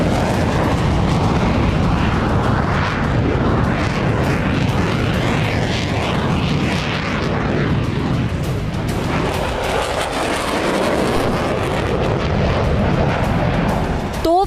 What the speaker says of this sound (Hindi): आसमान से लड़ाकू विमान बम बरसाएंगे,